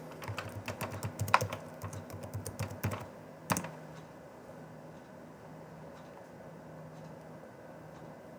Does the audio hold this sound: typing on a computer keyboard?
yes